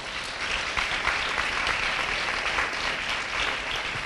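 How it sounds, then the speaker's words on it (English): Sustained audience applause at a county education excellence event, dense steady clapping from a crowd filling the whole stretch with no pauses. "Can we give them another round of applause,"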